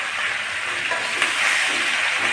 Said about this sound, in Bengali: কাঁচা কলাটা আমি ভালো করে একটুখানি ভেজে নেব